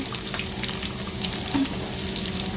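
Mustard seeds, cumin, garlic, dried red chillies, chana dal and urad dal crackle and sizzle in hot oil for a Telugu bendakaya (okra) fry, a dense continuous splutter with scattered sharp pops.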